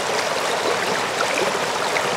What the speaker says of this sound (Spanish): Con el sonido de esta maravilla de río